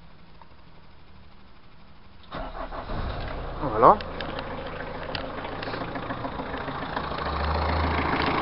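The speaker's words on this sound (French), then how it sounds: "Là, je vais démarrer la voiture." A car engine cranks and catches, revving briefly before settling into a steady idle close by, after the fitting of a battery cut-off switch; someone speaks a word or two over the start.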